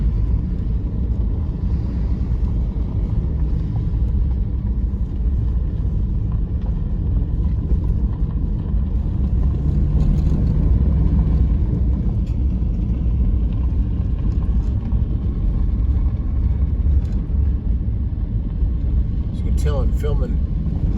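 A Subaru drives along a dirt road in the Book Cliffs of northeast Utah, its cabin filled with a constant low rumble of engine and tires plus wind buffeting, steady throughout with a few faint clicks near the end.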